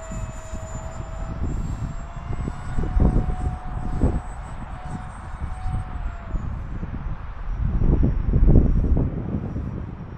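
An Eclipson Inferno model jet on its maiden flight, its steady whine passing overhead at a moderate distance, swelling louder at two points as it turns and runs past, with no talk.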